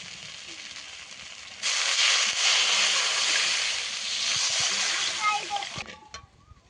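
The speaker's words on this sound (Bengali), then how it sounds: "ভালো করে কষে নিয়েছি এবার জল দিয়ে দেবো" Water poured into a pan of spiced fish curry, a loud, steady hissing rush lasting a few seconds that then settles into fainter bubbling, close by.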